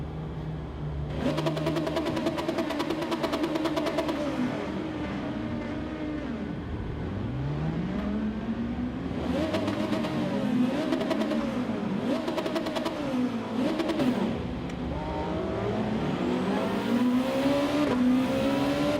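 Race cars in the Gran Turismo 7 racing game revving their engines, with repeated mid-pitched rises and falls of the revs overlapping from several cars, steady and fairly close throughout.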